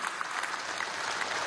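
Steady audience applause at a Venezuelan government business event, a dense, even wash of many hands clapping at moderate distance with no one speaking over it.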